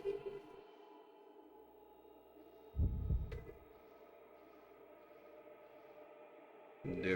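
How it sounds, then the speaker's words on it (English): A deep, muffled heartbeat throbs in the Fatal Frame 2 horror video game, a heavy pulse rising over a low ambient hum before fading back down. "I hear the heartbeat."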